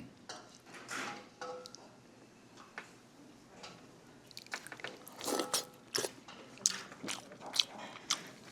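Someone eats pork gukbap seasoned with garlic paste: soft close-up chewing, slurping and spoon taps on a bowl, irregular and quiet, with louder clicks toward the end.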